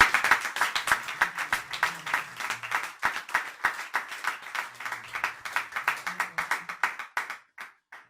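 A church congregation in Brazzaville claps in steady rhythm to acclaim the Lord, many hands striking together in a brisk, even beat that runs for several seconds before thinning to a few last claps.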